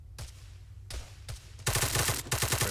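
Gunfire in the video game Arma 3: single loud shots, then from about 1.6 seconds a dense, rapid burst of automatic fire that runs close and loud to the end, with no talking.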